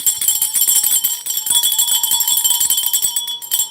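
Bright, repeated bell rings during a livestream, a fast rhythmic series of sharp high chimes with ringing tones layered over each other, loud and close.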